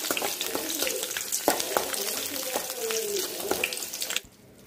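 Bay leaves and green chillies fry in hot oil for a mussel masala, giving a steady broadband sizzle with scattered utensil clicks and stirring scrapes, close and fairly loud, before cutting abruptly to near quiet at the end.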